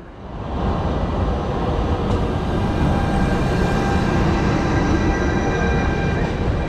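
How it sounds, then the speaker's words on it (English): A loud Milan metro train rumbles and rolls close by as it arrives at a station, steady rail noise with faint squealing tones overhead. "And this is one of the trains that we'll be taking."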